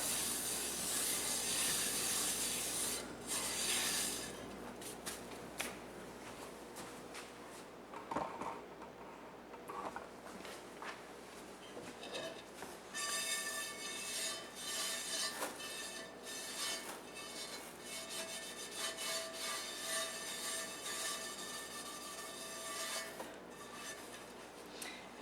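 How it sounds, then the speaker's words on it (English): Salt is being scrubbed around a cast iron skillet with a stuck-on mess, giving a hissy, gritty rubbing with strokes that vary in intensity over a long stretch and no voices. "And give it one more all over scrub."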